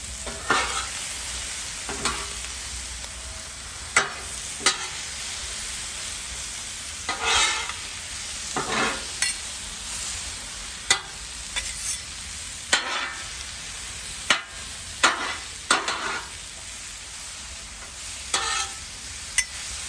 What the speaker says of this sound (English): We'll just put that butter in the middle there.